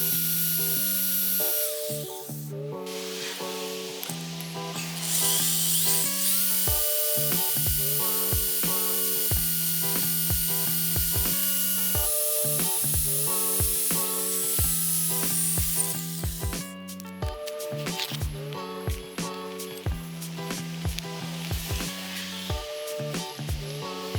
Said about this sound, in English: drill a hole in the front shaft to alleviate all the built up pressure